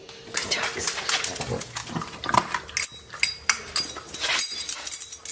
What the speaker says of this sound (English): You can hear my dogs over there tearing up their food.